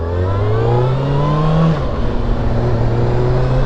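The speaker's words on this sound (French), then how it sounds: "on roule tranquillement sur le couple du 4 cylindres" A Kawasaki ZX-6R four-cylinder motorcycle engine, heard while riding, pulls up through the revs in a loud, close rising whine, drops briefly at a shift, then settles into a steady hum.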